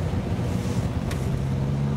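A Range Rover Evoque Cabriolet diesel engine drones steadily while the car climbs a hill, its low engine hum mixed with road and wind rumble, with no voices.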